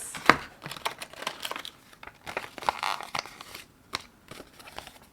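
Plastic packaging being cut open with scissors gives close crinkling and crackling with sharp snips and rustles in uneven bursts, fairly quiet overall.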